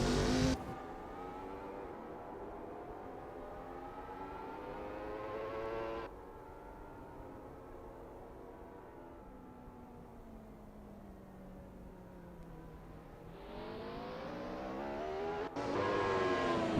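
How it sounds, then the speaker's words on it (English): Race cars warming up at Jerez GP in Assetto Corsa: a close engine drones and shifts pitch steadily, rising and falling through gears with a long smooth run, then revs sharply higher near the end, with no talking. "It's a lovely day for racing here at Jerez GP as we watch these drivers warm up and get ready for the race."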